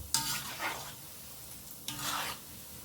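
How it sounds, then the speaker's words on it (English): Chin chin dough pieces frying in hot oil while being stirred, two separate scraping swishes of the spoon over a soft, steady sizzle, fairly quiet and close with no talking. "So now we're going to leave to fry for some time, but keep stirring, please, so that they all get brown at the same time"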